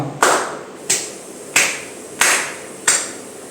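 Five single hand claps ring out one at a time at an even, unhurried pace, each crisp and close with a short fading tail, and nothing else in between.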